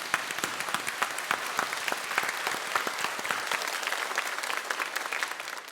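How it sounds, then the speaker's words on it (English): An audience at a debate between Chinese and Australian experts applauds the panel, a dense, steady clapping from a sizable crowd that continues evenly throughout. "A big applause to the guest team,"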